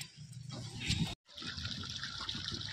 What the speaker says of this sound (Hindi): देखिए खेत में आ गया पानी